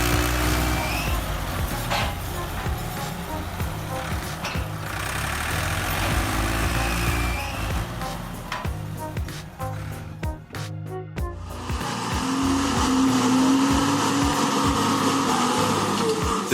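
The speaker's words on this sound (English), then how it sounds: "The engine roars like a wild animal trying to conquer it, but the climb is tough." A big logging truck's engine roars loudly and steadily as it climbs a steep, slippery dirt slope, a heavy low rumble with rising and falling strain and a brief dip before surging again.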